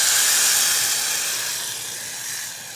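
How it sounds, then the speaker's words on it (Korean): Anchovy broth poured into a hot pan with chili peppers, a loud steady hiss of steam and bubbling that eases slightly toward the end, with no voices. "육수를 넣어서 또 이제 끓여주세요"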